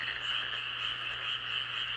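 A frog croaks in a steady, continuous trill, close and moderately loud, with no voices around it.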